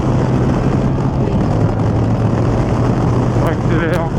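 A Yamaha R7 A2 motorcycle fitted with an aftermarket exhaust line drones loudly and steadily while accelerating on the road. The engine tone stays constant throughout, with a brief rising whine near the end.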